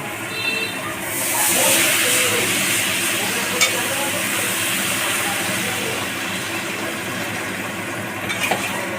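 Water splashes into hot fried spice paste for a fish curry, bursting into a loud steady hiss and sizzle that swells early and holds, with faint scraping from stirring.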